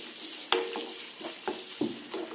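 Curry leaves and a green chili frying in a hot pan with a sharp crackle, then a few spluttering pops and stirring scrapes over a steady low sizzle.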